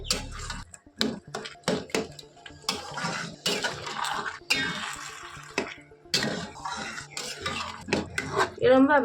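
Grated carrots for gajar halwa stirred and fried in a pan, a spoon clattering and scraping against the metal in uneven bursts, with a brief spoken phrase in between.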